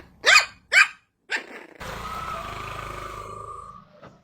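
A dog barks twice in loud close bursts, gives a shorter third bark, then lets out a long low growl that fades, with a faint final yip at the end.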